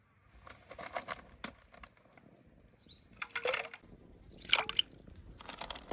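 Crab being washed by hand in lukewarm water in a village kitchen, with soft sloshing, irregular drips and splashes, and a few squishy handling noises at close range.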